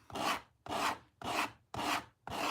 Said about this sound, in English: what I'm doing is sanding my edge nice and flush